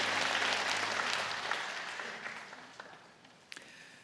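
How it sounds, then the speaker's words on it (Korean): A church congregation claps in welcome during a Sunday worship service, loud sustained applause at the start that gradually fades, with a few isolated claps near the end. "여러분께 박수로 환영하시죠."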